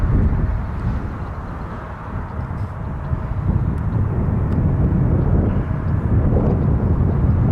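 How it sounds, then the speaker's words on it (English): An airliner rolls for takeoff at Toronto Pearson airport, a steady loud low engine roar and rumble holding throughout with some wind buffeting, no voices. "A plane is coming."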